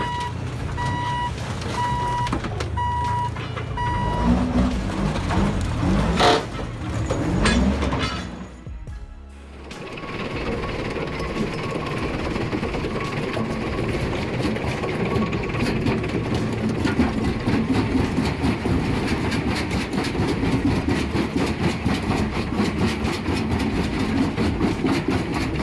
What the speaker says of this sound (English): That's the Kleemann MC 120Z Pro at work, a true German beast built for basalt.